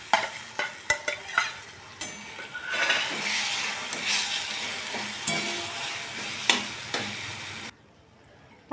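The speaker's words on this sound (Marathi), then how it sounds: "आता आपण वांग्याचं भरीत टाकून घेऊ इथे" Mashed eggplant bharta stirred into fried onion in a pan, giving a steady sizzle with scraping spoon strokes and a few sharp clinks against the pan, ending abruptly.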